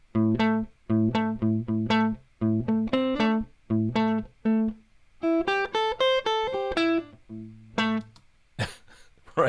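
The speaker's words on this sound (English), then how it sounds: "If I just play you the raw track, this is what I played on guitar." Dry electric guitar with no effects, playing a clean rhythmic pattern of repeated chord stabs and short single-note runs, close and fairly loud, alone.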